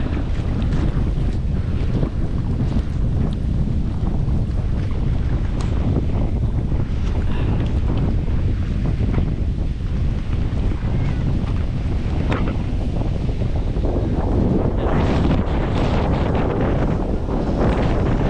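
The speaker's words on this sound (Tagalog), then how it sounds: "Grabe, ang lakas ng hangin." Strong wind buffets the microphone continuously during a storm, roaring over the wash of sea waves, loud and steady throughout with no voices.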